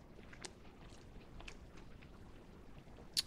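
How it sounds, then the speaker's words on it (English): Soft, close chewing of a bite of a breaded chicken sandwich from Buffalo Wild Wings, with quiet moist mouth sounds and faint crunches, and one brief sharper click near the end. "I'm gonna take a bite over here where there's no pickle."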